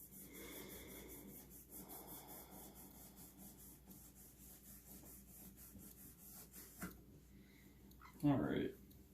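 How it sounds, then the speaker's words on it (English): A polishing cloth rubs along the fretboard of an acoustic guitar in a soft, steady scrubbing, faint and close, ending in a louder brief squeak or thump near the end. "then we'll just take the polishing cloth and wipe down the fretboard pretty thoroughly to get any gunk or grime off of it"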